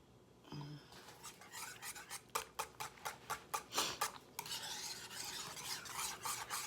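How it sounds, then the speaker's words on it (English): A whisk beats chocolate pudding made with egg yolks, milk and cornstarch in a pot, starting with a faint scrape, then a quick run of rhythmic clinking strokes followed by a continuous swishing scrape, fairly quiet and close. "I'm gonna whisk it just a little bit"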